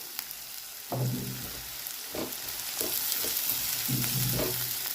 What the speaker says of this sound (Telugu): వెల్లుల్లిపాయలు, ఉల్లిపాయలు ఇవి వేసుకొని వేయించుకోవాలి.